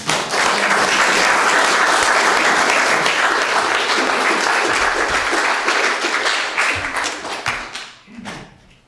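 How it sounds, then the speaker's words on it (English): Enthusiastic audience applause at a live storytelling event, a dense, steady wash of many hands clapping that holds for several seconds and then fades out near the end. "one more round of applause"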